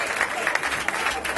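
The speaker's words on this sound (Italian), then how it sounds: "Ma fate un applauso" A small circus audience claps steadily for a moment under a covered ring, scattered hands applauding at moderate distance.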